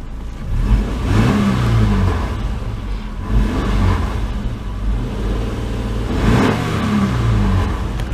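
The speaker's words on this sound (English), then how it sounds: "And we'll go ahead and give this one a quick rev and then cut it off." A 2008 Subaru Outback with a 2.5-liter boxer engine and five-speed manual is revved several times, each rise and fall of the flat-four close and loud over a rough idle.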